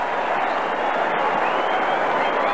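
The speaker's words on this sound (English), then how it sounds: "the crowd give him an enormous cheer" A big football crowd at an Australian rules match in Adelaide roars and cheers loudly as a favourite player comes onto the ground, a dense, steady wall of crowd noise with applause mixed in.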